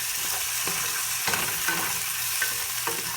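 Diced, semi-frozen small tomatoes fry in a pan for a Filipino upo and shrimp sauté, giving a steady sizzle with a few scraping stirs of a utensil, close and continuous, without speech.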